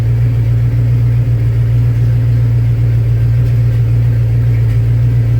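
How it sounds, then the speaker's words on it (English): A 1936 Buick engine idles steadily while being checked for overheating, a loud, close, smooth low rumble with an even pulse that holds unchanged throughout, with no talk. "I've been idling for quite a while now."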